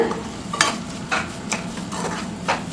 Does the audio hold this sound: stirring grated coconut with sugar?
yes